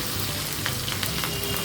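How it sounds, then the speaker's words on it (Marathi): Green chillies hit hot tempering oil with mustard seeds, cumin, sesame and asafoetida for rice dhokla, giving a soft continuous sizzle with faint crackling pops scattered through it, close and without talking. "मोहरी तडतडली की मिरची टाकायची"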